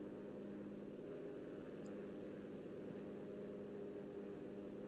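A propeller plane's engine drones through a World War II battle in the shooter game Enlisted, a faint, steady hum that holds level throughout with no voices over it.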